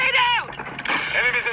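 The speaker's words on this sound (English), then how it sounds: "Grenade out!" A grenade blast in a shooter video game lands as one loud, booming burst with a rumbling tail, close and heavy, mixed with game sounds and whooshing effects.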